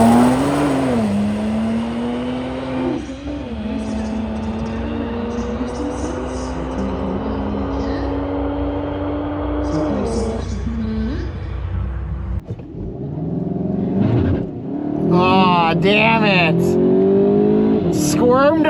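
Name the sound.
tuned VW GTI MK8 launching and accelerating in a drag race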